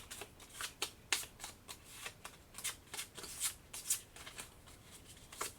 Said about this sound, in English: shuffling is just not the best until I get sleeves, then I can do better shuffling